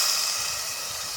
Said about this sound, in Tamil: இந்த எண்ணெயிலே கொஞ்சம் நேரம் நண்டு வந்து லைட்டாக இது வதங்கட்டும், நல்லா கொஞ்சம் வேகட்டும்